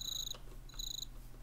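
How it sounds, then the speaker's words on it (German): Minecraft crickets in a woodland biome, two short bursts of high, buzzing chirps separated by a brief gap, faint and close over a low steady hum, with no talking. "Grillen. Ich kenne jemanden, der sich über dieses Zirpen sehr freut."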